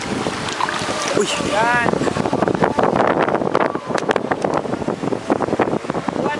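Strong wind buffets outdoors near the water, loud gusty roaring across the whole clip, while people talk and call out over it.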